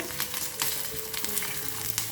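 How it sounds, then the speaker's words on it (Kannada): White sesame seeds crackle and splutter in hot oil, a steady sizzle with sharp pops scattered throughout. "ಎಳ್ಳು ಹಾಕಿದ ನಂತರ ತುಂಬ ಬೇಗ ಸಿಡಿಯುತ್ತೆ"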